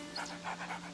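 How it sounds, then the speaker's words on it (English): A dog pants in the video game A Plague Tale: Innocence, a quick run of faint, rhythmic breathy huffs lasting about a second against a low steady hum. "I'm gonna pet my freaking dog. Hello, doggy."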